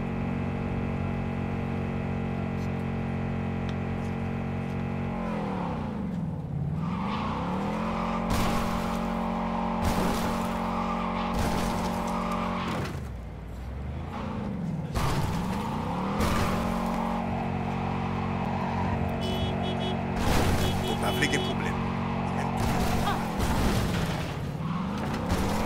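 Cars colliding and skidding during a vehicle fight in the video game Cyberpunk 2077: loud continuous engine roar with repeated sharp impacts and tire screeches, alone without talk.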